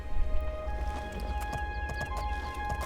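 Horse hooves clip-clop at a steady trot in Elder Scrolls Oblivion, moderately close and repeating over a low constant game hum with faint musical tones.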